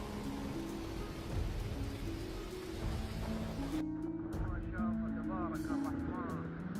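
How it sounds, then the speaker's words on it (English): Heavy rain hisses steadily through a thunderstorm, with low rumbling beneath, while a narrator talks over the storm throughout. "The echoing sound of thunder and strong winds filled the air with tension"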